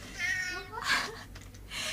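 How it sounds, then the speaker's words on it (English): A house cat meows repeatedly and insistently, several drawn-out, wavering calls close by, with a brief pause before another cry. "my cat's going nuts"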